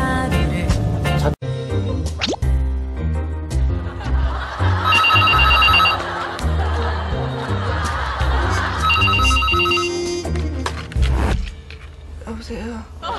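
A telephone rings as a wake-up morning call in two long bursts of a bright electronic trill over music, with people laughing and chatting nearby.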